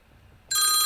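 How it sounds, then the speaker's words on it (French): A telephone ringtone cuts in abruptly after a quiet moment, a loud electronic trill that sounds close and keeps going to the end. "j'avais oublié de fermer la sonnerie du téléphone"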